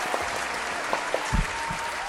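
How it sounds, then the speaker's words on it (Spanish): A hall audience at a Christmas-time pre-university math class session claps steadily in sustained applause, a dense even patter with no voices over it. "el profesor Freddy Farías, para el cual pido un fuerte aplauso"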